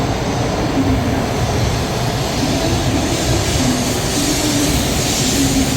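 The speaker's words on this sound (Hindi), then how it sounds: "ये हमारी आ गई है बुलेट ट्रेन।" A Japanese bullet train pulls into a station, its loud, steady rush and rumble continuing throughout with faint tonal whine, close by and without talk.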